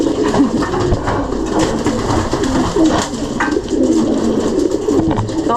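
Pigeons at a racing pigeon club loft, cooing and fluttering steadily throughout, several birds close by with a busy, continuous background of wings and calls.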